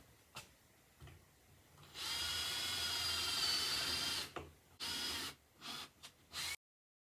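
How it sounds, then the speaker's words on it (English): Power drill pre-drilling screw holes in dry rough-cut wood for a table, a long steady whine of about two seconds followed by several shorter bursts, close and fairly loud. "I'm going to have to pre-drill our holes because this rough cut is a little dry"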